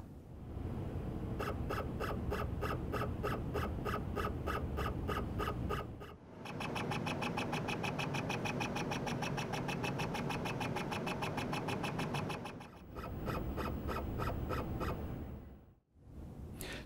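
A desktop 3D scanner runs its scan, a steady mechanical drone with rapid regular ticking pulses that continues for many seconds, broken by brief pauses before resuming.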